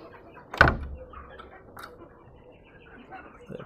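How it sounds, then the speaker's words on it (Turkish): Chicken coop door closing, one sharp knock or clunk near the start, then quiet rustling and a fainter click later. "Kapıyı kapatalım."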